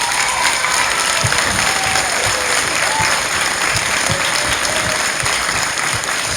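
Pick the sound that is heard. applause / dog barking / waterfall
applause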